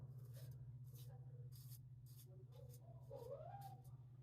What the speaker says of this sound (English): now he's meowing, he wants out